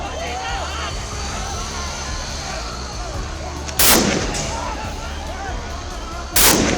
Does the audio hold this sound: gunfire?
yes